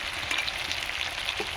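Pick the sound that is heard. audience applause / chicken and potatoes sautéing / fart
chicken and potatoes sautéing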